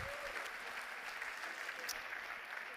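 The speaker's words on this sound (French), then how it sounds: "Vous applaudissez plus fort que ça, s'il vous plaît, la banda des Caminos." Faint applause from an audience at the Béarnais de l'année 2022 gala, a steady wash of clapping heard from a distance, low in level and unbroken across the short stretch.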